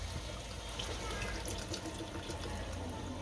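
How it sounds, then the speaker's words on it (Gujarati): Water poured into a cooking pan while making a Gujarati rotla shaak, a steady continuous splash and trickle that runs close and fairly quiet for the whole stretch, with no voices. "હવે પાણી નાખીને સડવા દઈએ."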